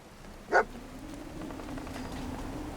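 A single short bark from Dogmeat the dog in Fallout 4, heard once fairly close over a quiet low ambient hum.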